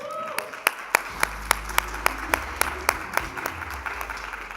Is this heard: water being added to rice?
no